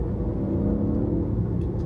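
Tesla Model 3 Standard Range rear-wheel-drive electric car creeping along at very low speed, a steady low road rumble and faint whir heard from inside the cabin with no talking.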